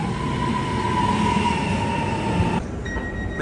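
A train rolling from Reggio toward Milan, heard from inside as a steady rumbling hum with a faint whine, continuous and fairly loud until the noise drops sharply near the end.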